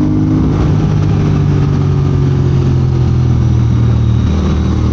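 Triumph Speed Twin motorcycle being ridden, its engine running loud and steady throughout with a sustained low drone and wind-like rush, no talk heard.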